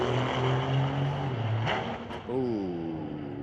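A big diesel pickup truck at a drag strip spools up its engine: a droning harmonic rumble holds, dips briefly, then climbs into a rising, wavering whine.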